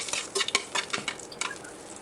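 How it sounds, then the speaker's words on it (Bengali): Dried red chillies fry in a pan with a light sizzle, broken by quick, rhythmic scrapes and stirs of a spoon against the metal, close and fairly loud. "শুকনো মরিচটা কিন্তু আস্তে আস্তে আমার ভাজা হয়ে যাচ্ছে।"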